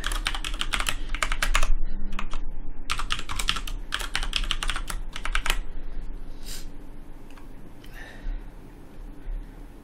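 Password being typed on a computer keyboard during NAS setup, bursts of rapid close key clicks separated by short pauses, fading to a few scattered taps.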